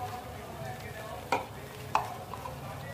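Masala with red chili powder, salt, turmeric and gram flour frying in a pan for stuffed tinda: a faint steady sizzle with two sharp scrapes of a spoon stirring.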